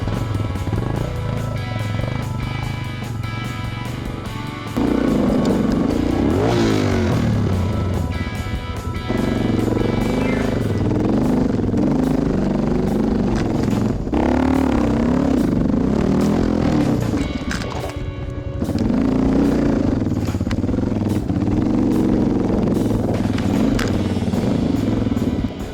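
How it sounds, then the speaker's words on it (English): Heavy Suzuki DR650 dual-sport motorcycles climb giant dirt hills, their single-cylinder engines roaring loudly and continuously, rising and falling as the throttle opens and closes, with clattering over rough ground. "smashing giant hill climbs without ever dropping our heavy DR650s"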